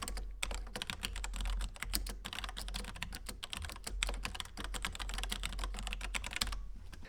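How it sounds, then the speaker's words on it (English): Rapid, steady typing on a Logitech K810 computer keyboard, with dense clicking keystrokes close up and no voices. "here is a typing test of the Logitech K810 that I was using previously"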